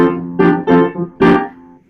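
Piano passage in a lesson setting: a few sustained chords in an uneven rhythm, with a brief held pause before the pickup note into the next phrase, played alone and close.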